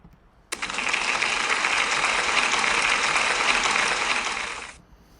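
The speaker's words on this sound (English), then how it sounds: "So I think you all deserve a big round of applause." Audience applause at a school celebration assembly breaks out suddenly and holds as a dense, steady clatter of many hands for about four seconds, then fades away.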